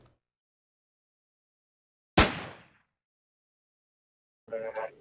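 A single sharp gunshot in the NRA Gun Club video game, a sudden loud crack with a short decaying tail in near silence, followed a few seconds later by a brief tonal game sound.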